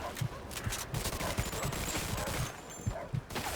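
Rapid gunfire in the Mafia II video game, a steady stream of sharp shots fired in quick succession over a continuous noisy battle background with no speech.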